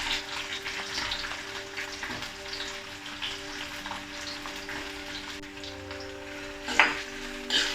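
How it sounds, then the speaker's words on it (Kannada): Chopped onions frying in hot oil with cumin seeds for Punjabi style rajma masala, giving a steady moderate sizzle with a low hum underneath and a brief louder scrape or stir near the end, close by with no talking. "ಈರುಳ್ಳಿ ಸ್ವಲ್ಪ ಬ್ರೌನ್ ಆಗೋವರೆಗೂ ಫ್ರೈ ಮಾಡ್ಕೊಳ್ಳಿ."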